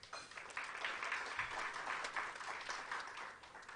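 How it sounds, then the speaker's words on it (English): Round of applause at the NAMRA launch ceremony, a steady, fairly faint wash of clapping that holds evenly throughout without pause. "So we want to give them a round of applause."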